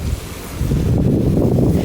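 Wind buffeting a microphone beside an outdoor swimming pool, a loud, steady low rumble that strengthens midway and continues.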